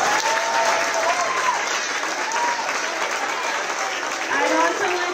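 A school holiday concert audience at James Buchanan Elementary applauds continuously, dense and loud throughout, with cheering voices and whistle-like calls rising above the clapping.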